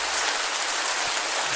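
Thunderstorm rain falls steadily, a dense, even hiss of drops on surfaces, moderately loud and unbroken throughout.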